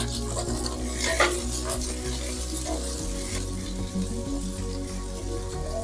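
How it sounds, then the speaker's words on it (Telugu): Green chillies frying in about two tablespoons of hot oil for gongura pachadi, a close, steady sizzle with scraping spoon stirs against the pan, no voices. "పచ్చిమిర్చి ఆయిల్ వేసి ఫ్రై చేస్తాం"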